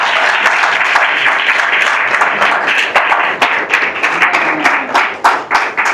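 A church congregation claps and cheers in praise, a dense, sustained wash of applause with scattered sharp individual claps, loud and close, thinning into uneven bursts toward the end.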